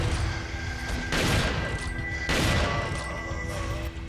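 Rapid automatic TMP submachine-gun fire in Resident Evil 4 during the Salazar boss fight, two loud bursts of crackling shots over a steady game soundtrack with tonal music lines.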